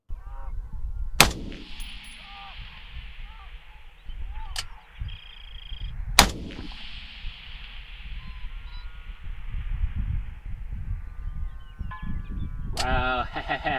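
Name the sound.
6.5 Creedmoor rifle shots at 1220 yards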